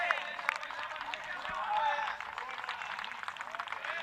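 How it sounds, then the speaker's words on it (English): Spectators at a T10 cricket match in Belgium applaud a batter, a brief swell of scattered clapping from a small crowd heard under a commentator's continuous talk. "And he gets a good round of applause"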